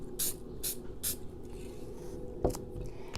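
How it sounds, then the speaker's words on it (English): Three short bursts of Mod Podge spray aimed at a flocked pinecone, evenly spaced hisses followed by a single soft knock, close and quiet with no talking. "Spray a little more Mod Podge."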